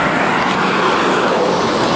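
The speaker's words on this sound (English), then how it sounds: "you might hear all this traffic. It's a very loud, busy street." Loud, continuous roar of passing road traffic, vehicles rushing by close at hand with a broad wash of tire and engine noise.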